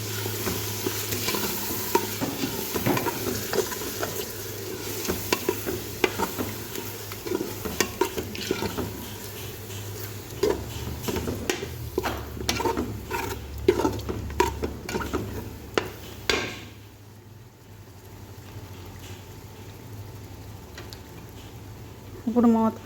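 Mutton with yogurt for biryani simmers and sizzles in a pot, a steady near frying hiss with stirring clatter, fading to a quieter bubbling simmer toward the end; a voice speaks over it.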